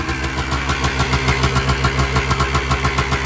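A 1982 Honda ATC 250R three-wheeler's two-stroke engine idles just after a top-end rebuild, loud and close, with a fast, even, slightly uneven-pulsing putter that continues throughout.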